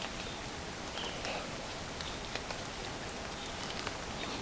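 Rain falls outdoors straight onto a microphone, giving a close, constant hiss of spatter with scattered sharper drop ticks and no voices.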